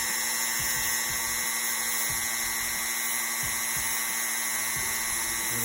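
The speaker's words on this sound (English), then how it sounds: "so sand this down" A small power tool buzzes steadily, sanding down the ankle joint of a Marvel Legends action figure, with a continuous high whine and faint rhythmic low pulses, close up and alone.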